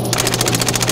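Rapid automatic gunfire in the tactical shooter Rainbow Six, a steady string of roughly ten evenly spaced shots across a second, loud and continuous with no talk over it.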